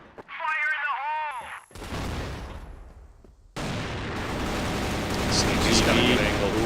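AWM sniper rifle fire in a competitive CrossFire esports match: heavy, sharp gunshot cracks cut across the game audio and a caster talks over them.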